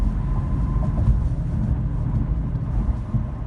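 Steady broadband road and engine rumble from an Infiniti Q50S automatic cruising at 45 mph, a continuous low drone with no talk.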